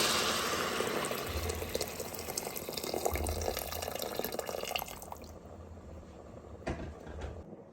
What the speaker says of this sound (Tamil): ஒன்றரை கப்பு ரைஸுக்கு ஒரு 3 கப்பு தண்ணி விடுறேன்